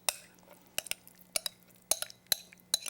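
Sweet potato bread batter stirred in a bowl, a utensil knocking and clinking against the sides in about six sharp, separate strikes spaced roughly half a second apart over a low steady hum, with no talk.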